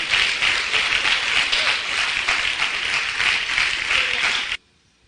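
A church congregation applauding, dense sustained clapping from many hands in a large room, even and loud for several seconds before cutting off abruptly.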